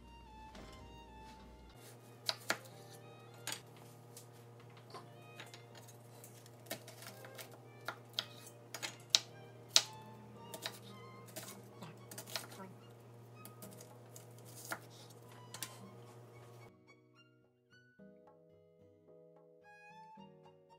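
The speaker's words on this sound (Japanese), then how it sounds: "まな板の上でブドウのトマトを切って玉ねぎも細かく切" A knife chops grape tomatoes and onion on a cutting board in a home kitchen, giving irregular, crisp taps at close range over steady background music, which ends abruptly near the close.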